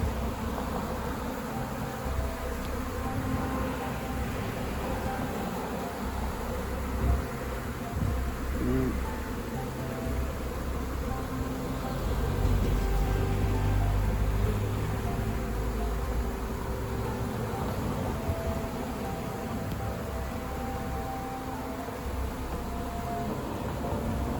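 A honey bee swarm hums steadily outdoors on the first day of swarm season, a continuous dense buzz that stays even throughout and swells slightly midway, with faint background noise.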